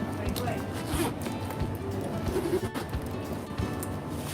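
Zipper on a green crocodile leather shoulder bag with cowhide lining, pulled in a few quick rasping runs close up while someone talks over it.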